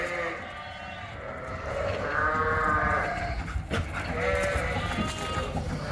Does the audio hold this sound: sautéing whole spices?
no